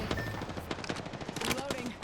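Rapid automatic gunfire in the video game Apex Legends, a quick run of sharp shots over game sounds with a voice speaking alongside.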